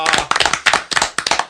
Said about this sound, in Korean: 저희가 박수로 초대 손님을 맞은 건 처음입니다